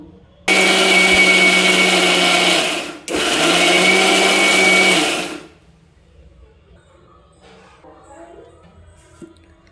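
A mixer grinder whirs loudly grinding green chilies for a few seconds, pauses briefly, runs again, then shuts off, leaving quiet room noise.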